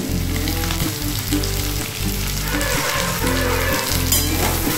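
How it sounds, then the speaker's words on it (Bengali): Boiled potatoes frying in a pan for a Bengali aloo posto dish, giving a steady, loud, dense sizzle throughout with faint scraping from stirring and no talking. "ভেজে নিচ্ছি। একটু না ভাজলে পরে সিদ্ধ গন্ধটা না গেলে হবে না, একটু ভালো করে ভাজতে হবে।"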